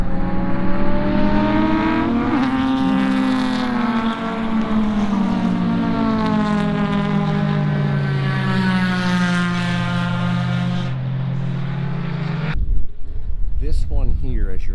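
An in-car engine revs hard as a car speeds well over 100 mph over a crest at Ozarks International Raceway, a loud sustained whine with gliding pitch that cuts off abruptly near the end.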